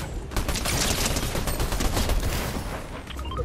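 Dense, continuous gunfire from a shooting video game, rapid overlapping shots and bursts filling the whole stretch at steady high loudness with no talk.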